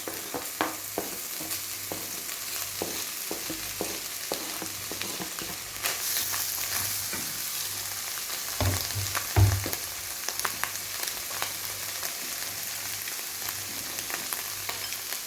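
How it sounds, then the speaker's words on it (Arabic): Mushrooms sauté in melted butter in a frying pan with a constant, close sizzle, punctuated by light utensil taps and stirring scrapes, with no talking. "ونشحروا هذا الفطر مزيان"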